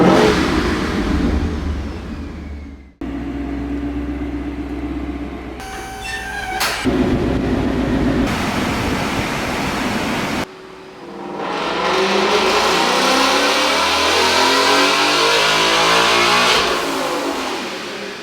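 A Ford Mustang GT engine revs hard through several throttle blips, each followed by a loud hiss and whoosh from the blow-off valve, with stretches of deep engine roar. The sound is close and loud, and nobody speaks.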